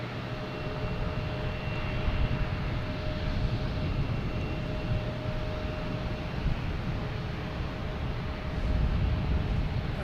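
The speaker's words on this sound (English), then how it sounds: "next coming in is Japan Airlines," Japan Airlines airliner arriving from Tokyo at Boston Logan, a steady low jet rumble with a faint whine, continuous and fairly distant.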